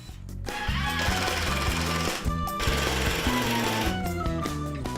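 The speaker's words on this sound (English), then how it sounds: "we're going to pre-drill before we put those screws in" A loud, steady mechanical whir with rapid rhythmic pulsing, a power drill pre-drilling into a wooden storage rack frame, running almost continuously with a couple of brief pauses.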